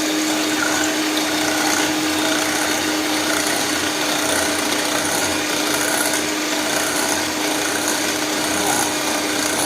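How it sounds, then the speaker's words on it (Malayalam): Eggs beaten until frothy for a cloud cake, a continuous loud whirring rasp from an electric beater that runs steadily without a break and with no talking. "ഇനി നമുക്ക് മുട്ട നന്നായിട്ട് ബീറ്റ് ചെയ്തെടുക്കണം"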